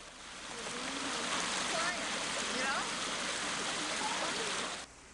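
Steady rushing of a flowing stream where people wash clothes at its edge on a rural tea-growing hillside in China, a broad continuous wash of water with faint splashes and scrubbing, cutting off abruptly near the end.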